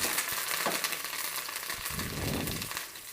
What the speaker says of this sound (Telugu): దాంట్లో కరివేపాకు కూడా వేసుకుందాం.